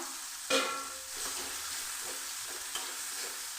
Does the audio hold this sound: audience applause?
no